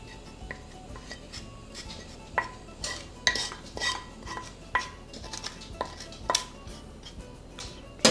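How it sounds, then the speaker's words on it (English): Italian sausage is added to pasta in a pan and mixed in, with a series of close metallic clacks and scrapes of a utensil against the pan at irregular intervals over a faint background, no talk. "I'm gonna go ahead and add the Italian sausage"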